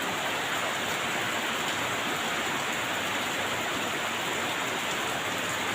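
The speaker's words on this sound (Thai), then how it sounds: "ฝนตกทั้งคืนนะครับ" Heavy rain falls steadily at a rural Thai village, a dense, even hiss of downpour with no voices and no letup across the whole stretch.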